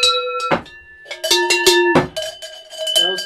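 Large traditional Slovak cow bells, hand-made folk bells for cattle, clank loudly and repeatedly up close, irregular strikes overlapping with ringing metallic overtones.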